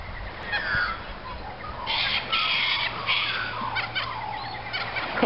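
Seagulls calling beside the Swan River near a jetty and yacht club, with several squawking cries rising over steady outdoor wind and water noise.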